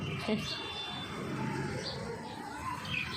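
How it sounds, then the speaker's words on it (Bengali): Soft bird calls and cooing in the background beneath a steady outdoor hum on a rooftop garden, partly overlapped by a person speaking. "এই যে আমার পাখি খেতে দিয়েছে"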